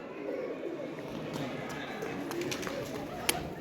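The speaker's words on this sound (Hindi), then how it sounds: "कबूतर? कहाँ जा रहा है?" A pigeon coos faintly in the background at the old Fatehpur Sikri fort, partly masked by people talking and by ambient outdoor noise.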